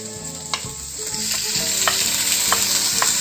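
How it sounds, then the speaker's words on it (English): Minced garlic and onions frying in a hot pan, a steady loud sizzle with periodic clicks and scrapes of stirring spaced about every half second to second, no voices. "we will be stirring these around until the garlic becomes brown and the onions become transparent"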